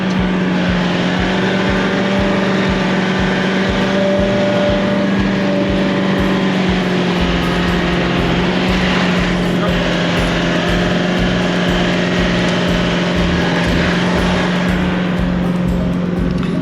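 A safari vehicle engine drones loud and steady as it drives through a riverbed in South Luangwa, with a constant low rumble and rattling from the chassis throughout.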